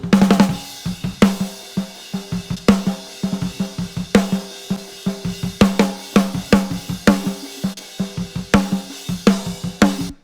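A processed snare pattern recorded with a Lauten Audio snare mic repeats in a steady groove, crisp hits with a bright top end and other drum hits mixed in, loud and close.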